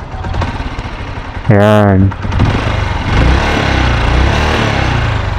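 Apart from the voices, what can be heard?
Motorstar TMX Alpha motorcycle engine running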